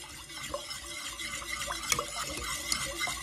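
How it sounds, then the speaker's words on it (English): Milk, melted butter and sugar whisked together in a bowl, a soft, steady scraping and sloshing with light clinks of the whisk against the sides, close and continuous for a few seconds with no talk. "It says whisk milk, butter, and sugar."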